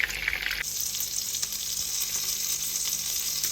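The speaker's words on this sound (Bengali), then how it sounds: "আমি আজকে ধরে সুন্দরভাবে সবগুলো কাবাব ভেজে নিলাম" Chapli kebabs fry in hot oil with a steady, dense sizzle that stays loud and close throughout, with a brief louder burst of bubbling at the very start.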